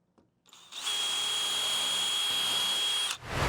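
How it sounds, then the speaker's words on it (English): A power drill bores holes into wooden table legs, spinning up after a brief lead-in and holding a loud, steady whine for over two seconds before cutting off. "Holes are drilled"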